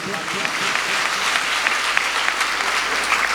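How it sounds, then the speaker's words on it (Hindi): A congregation claps together during a Sunday church service at Hastings Chapel in Kolkata, dense continuous applause from many hands filling the room at steady loudness throughout. "हम ताली बजा के परमेश्वर को धन्यवाद दें"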